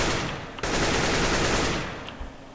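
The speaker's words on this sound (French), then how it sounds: "Les balles partent dans la zone de la banane." Rapid automatic gunfire from Counter-Strike on the Inferno map, sprayed through a wall in a loud, dense sustained burst that pauses briefly near the start and tapers off at the end.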